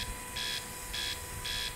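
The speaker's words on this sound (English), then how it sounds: "Oh, what are you beeping at now?" In a space survival video game, an electronic alarm sounds three short, bright beeps, evenly spaced over a low background hum.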